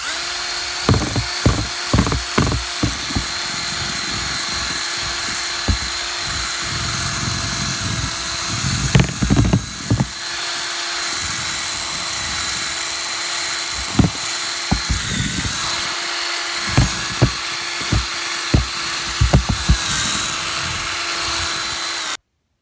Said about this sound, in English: We're going to mix it up with the paint stir and the drill.